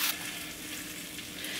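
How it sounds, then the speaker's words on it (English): An egg fries in oil seasoned with salt and pepper, a faint, even sizzle heard close and alone. "Literally just crack an egg right on top. Let that joint cook."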